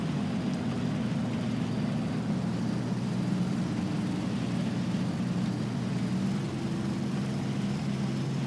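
Aircraft engine in the War Thunder combat flight game being throttled down, a steady low propeller drone and hum that continues evenly throughout with no other sounds.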